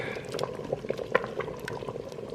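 Pinto beans simmer in an Instant Pot with soft, steady bubbling and occasional small pops, heard close and fairly quiet in a brief stretch.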